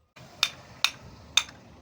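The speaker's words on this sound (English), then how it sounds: "we're just going to have to hammer that in slightly" Four sharp metallic taps spaced roughly evenly as a Freelander prop shaft is hammered into place, each strike ringing briefly and close, with quiet background between blows.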